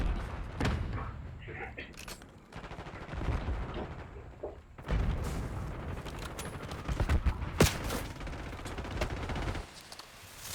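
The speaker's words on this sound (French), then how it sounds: "Je lance une grenade." Video game combat: a grenade blast and bursts of rapid gunfire crackle at varying distances, with thuds and a player talking over the action.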